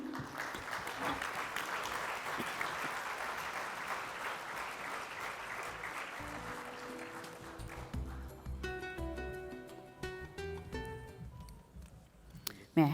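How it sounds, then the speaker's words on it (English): A forum audience at a 2024 budget event in Colombo breaks into sustained applause, a dense wash of clapping for about eight seconds that fades out into quieter room sounds and some tonal music. "Your applause, ladies and gentlemen."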